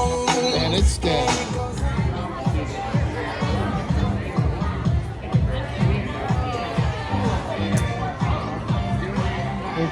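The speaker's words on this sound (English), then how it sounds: "This is the crowd getting together." A crowd gathers for the grand opening of Big Bird's Tour Bus at a park, a steady dense hubbub of many overlapping voices chattering nearby throughout.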